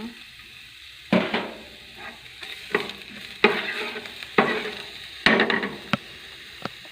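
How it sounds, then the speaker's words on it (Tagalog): Garlic sautéing in a pan for homemade Filipino afritada, with sharp bursts of sizzling and stirring scrapes recurring every second or so over a steady frying hiss. "Umpisahan na po natin igisa si bawang."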